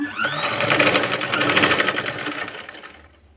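A sewing machine runs steadily at close range, whirring and rattling while it stitches a round frog-style back neck design, then slows and stops near the end.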